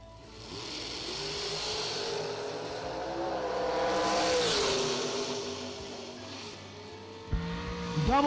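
A nitrous drag race car accelerates hard, its engine roaring in a rising and falling pitch that swells and then fades, with a sharp burst near the end.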